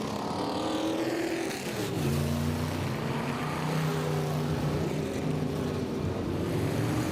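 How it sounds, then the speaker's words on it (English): Modified race cars roar past on the Southside Speedway oval, their engines a loud, continuous drone whose pitch slides and shifts as the cars pass, with several machines overlapping throughout. "We'll wait until the cars go by."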